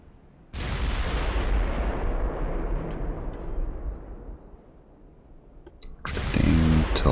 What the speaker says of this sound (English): Shooting at 26 kilometers.